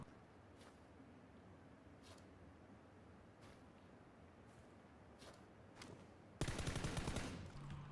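Gunfire in the battle royale game PUBG: several faint, distant single shots spaced a second or so apart, then a sudden loud close burst of rapid automatic fire that runs to the end.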